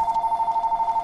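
A phone rings with a steady, repeating electronic tone in a rapid pulsing pattern, clear and moderately loud with nothing else over it.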